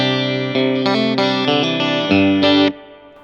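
A Reverend electric guitar on its hot bridge pickup gives a bright Tele-style tone, strumming a quick run of chords with a slightly driven, effected edge before ringing out and cutting off, with no talking.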